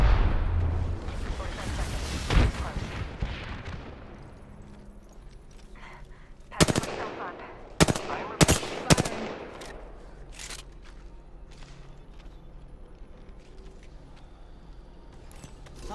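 Gunfire in the battle-royale video game Apex Legends: a loud rumbling blast decays at the start, then a handful of sharp, separate shots crack out in an irregular cluster midway, with quieter game ambience in between.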